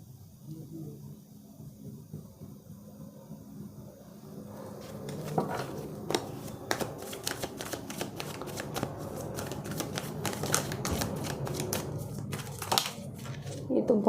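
Tarot cards are shuffled by hand in a quiet room, soft riffling and flicking that starts faint and grows busier and crisper, with a voice speaking softly at moments.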